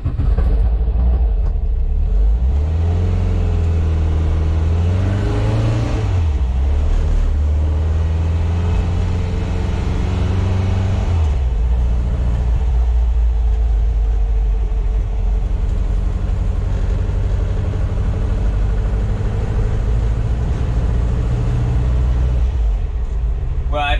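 A VW fitted with an air-cooled 2332 stroker engine drives along, its steady low rumble and engine drone rising and falling slightly as it accelerates, loud and continuous throughout.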